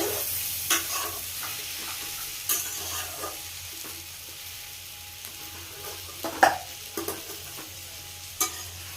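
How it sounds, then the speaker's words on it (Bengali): Mixed vegetables fry in a pan with a soft, continuous sizzle, while a utensil stirs them in repeated scraping strokes and occasional sharper clinks, close and fairly quiet, with no talking. "তো গাইস এখানে আমার মিক্স সবজিটা হচ্ছে"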